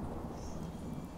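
Thunderstorm with steady rain and a low, continuous rumble of thunder in the Fallout 4 video game, a dense wash of sound that holds evenly loud throughout with no voices.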